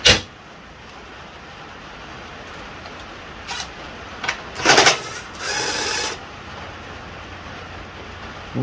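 Cordless impact wrench with a 10mm socket removing bolts from the carburetor of a 1997 Honda XR100R motorcycle, several short close whirring and rattling bursts, the longest lasting about a second, over quiet background.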